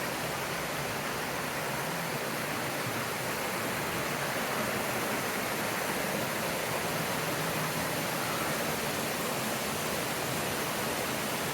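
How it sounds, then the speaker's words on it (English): Taxopamba waterfall near Otavalo, Ecuador, pours in a constant, dense broadband rush, loud and close, unchanging for the whole stretch with no voices. "Quite the beautiful waterfall."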